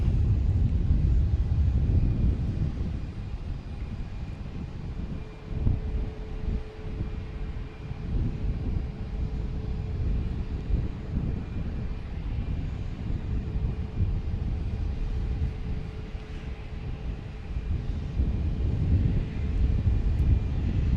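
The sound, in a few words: airplane coming in to land at Boston Logan Airport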